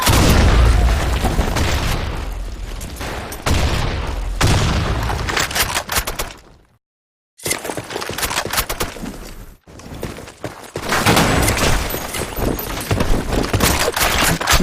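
Video game grenade explosions and gunfire: dense, loud bursts of shots and booms in a steady barrage, breaking off into a second or so of silence, then resuming just as heavily.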